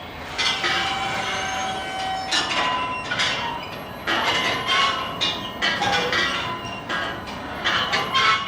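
Sound installation in Belfast's Titanic Quarter evoking shipyard noises: repeated clattering, knocking metallic and wooden impacts come in irregular bursts over a steady rumbling background, moderately loud and without talking.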